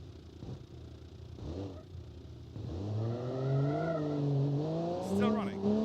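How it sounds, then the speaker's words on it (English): A car engine in the game BeamNG revs up and climbs in pitch, holding a strained, buzzy whine as it accelerates, with a voice talking over it. "But this engine noise is so..."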